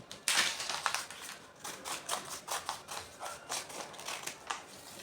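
Scissors cut dress fabric at the hip in a steady series of crisp snips, close and moderately loud, with no voice over them.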